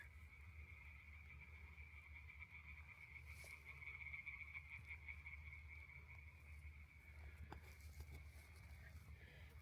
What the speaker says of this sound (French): je vais avoir la compagnie des grenouilles ce soir